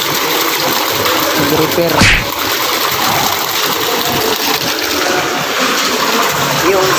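Water poured into a scalding vat at a slaughterhouse in Talisay, Cebu, a steady loud rushing gush with a brief surge near two seconds, under a speaking voice.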